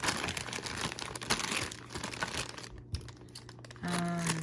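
Plastic packaging around a Super Sailor Moon figure being snipped and handled: close crinkling and rustling of plastic with small clicking cuts, ending in a short steady tone.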